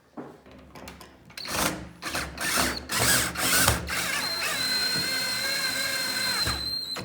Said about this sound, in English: I might go get my drill with the Phillips bit.